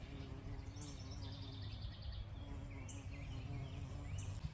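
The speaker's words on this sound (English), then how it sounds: "it's done a really good job of attracting early bees to the garden" A low, steady buzzing of bees hums outdoors, with high chirping birdsong scattered above it.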